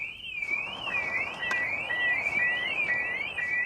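An aftermarket car alarm fitted to a 1989 car wails steadily, its tone sweeping up and down in a repeating warble. It sounds moderately distant, with no talking.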